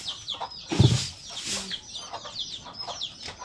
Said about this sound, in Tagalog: Magpakain ang asawa ko ng manok.